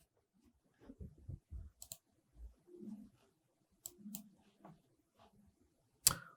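A computer mouse clicks a few times, giving sharp, isolated clicks in an otherwise quiet room, with faint low murmurs in between.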